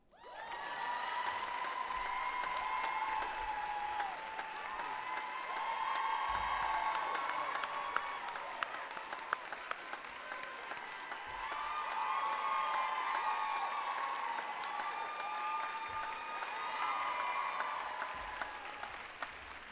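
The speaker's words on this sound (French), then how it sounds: "c'est le temps d'applaudir chaleureusement nos nouveaux docteurs." An audience at a university graduation ceremony for new doctors in political science and law applauds, sustained clapping from a large crowd that swells and eases, moderately distant and reverberant.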